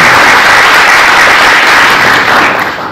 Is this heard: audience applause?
yes